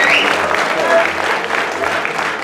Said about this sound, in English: Okay, give the girls a big round of applause.